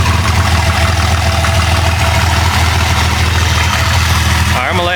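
A Jeep Cherokee's 4.0 engine idles steadily up close, a loud, even low rumble that holds throughout before a brief voice-like sound near the end.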